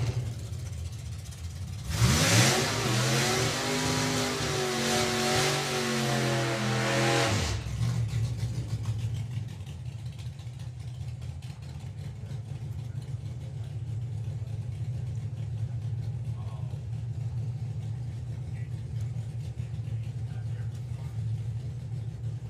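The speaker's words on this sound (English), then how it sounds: "Starting with Junior Dragster in just a couple of moments." A drag racing car at a summer nationals drag strip accelerates hard in one loud, close burst of rising engine roar lasting about five seconds, then cuts off and leaves a low track rumble and distant ambience.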